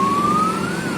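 A fire engine siren sounds at the scene of a container truck accident carrying molasses in Purwosari, one loud, close, steady wail that slowly rises in pitch over a low traffic rumble.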